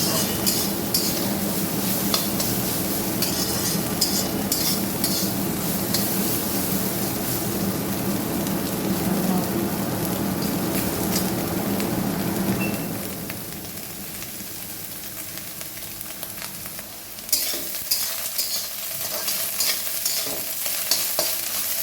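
Green chilies fry in a pan with a constant hiss and crackle while a utensil scrapes and stirs repeatedly; the sizzle drops quieter midway, then the clatter of stirring resumes near the end.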